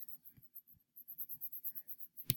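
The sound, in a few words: erasing writing on a board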